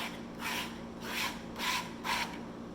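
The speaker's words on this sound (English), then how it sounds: "I'll scrape it." Four rhythmic rasping strokes of a scraper across dried paint on a painting surface, quiet and close, evenly spaced back-and-forth scrapes.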